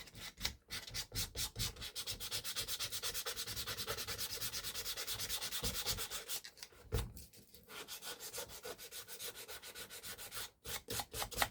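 Rapid, steady rasping strokes of sanding scrub old coating off a leather shoe, loud and close, pausing briefly midway before the rhythmic rubbing resumes.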